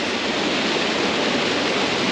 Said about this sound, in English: One last little waterfall.